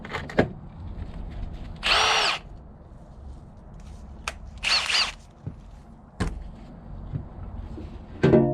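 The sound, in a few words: power tool driving half-inch headed fasteners into panel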